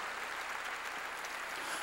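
Church congregation applauding together, a dense, even wash of clapping that fills the whole brief moment without pause.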